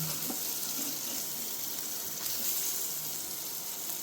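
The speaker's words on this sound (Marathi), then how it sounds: "आता हे फ्राय करून घेऊया, परतून घेऊया जरा यांना." Ladyfish fry in a pan with a steady, even hiss of sizzling oil that holds at a constant level throughout, with no voices over it.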